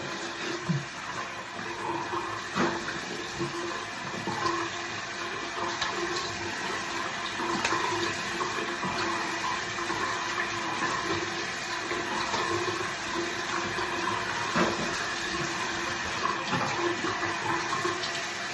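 Running water splashes continuously as a face is rinsed after shaving, with a steady close faucet flow and irregular splashing, no talking.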